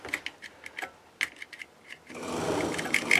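A faulty Range Rover Classic heater blower motor, treated with contact cleaner, is heard after a run of scattered clicks and ticks as a soft, steady whirring starts up partway through.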